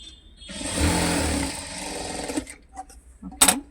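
A sewing machine stitches a four-cut handbag, running in one steady whirring burst of about two seconds, then dropping to quieter clicks and handling sounds before a brief sharp burst near the end.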